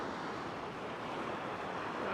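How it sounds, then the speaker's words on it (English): Ocean waves wash onto a beach during rainy fishing weather, a dense, steady roar of surf with some wind buffeting, close and continuous without speech. "You can see this water starting to wash in."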